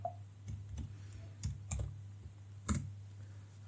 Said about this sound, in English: I can type python merge.py.